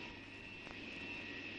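A propeller aircraft roars steadily during takeoff, a continuous loud engine drone with a strong tonal whine and no talk over it.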